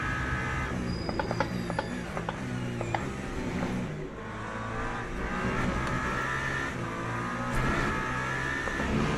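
Race cars launching at the start of a Le Mans Ultimate race at Monza, a dense field of engines revving and droning together, with clicks and mechanical rattles over a steady roar.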